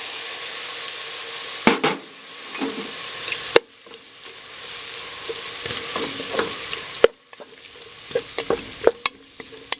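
Shrimps sauté with onion in a hot pan, a steady sizzle broken by scraping stirs and sharp clinks of a utensil against the pan, close and moderately loud.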